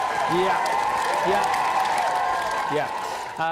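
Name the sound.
studio audience applause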